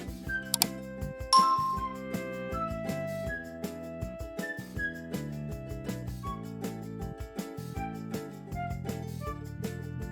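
A spoon clinks and scrapes against a pan while tendli bhaji is mixed with grated coconut and coriander, giving a steady run of metallic taps and clatters close by.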